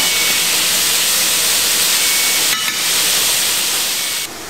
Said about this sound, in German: Die sind jetzt richtig schön scharf angebraten.